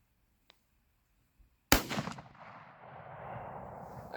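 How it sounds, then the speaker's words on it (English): One loud, sharp rifle shot firing a 10mm full metal jacket round during a grouping test breaks the quiet, followed by a rolling echo that fades into low background noise. "Let's do a 3-shot group and see how tight it is."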